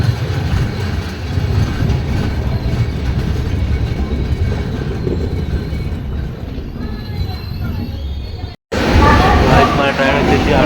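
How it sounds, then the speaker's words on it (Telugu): Sanghamitra Express train pulling out of Arakkonam Junction, a steady loud rumble of wheels and carriages with rhythmic rail clatter throughout, briefly cut off near the end before resuming just as loud. "మన ట్రైన్ వచ్చేసి అరక్కడం జంక్షన్ నుంచి అయితే డిపార్ట్ అయింది"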